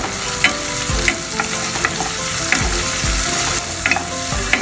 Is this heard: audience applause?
no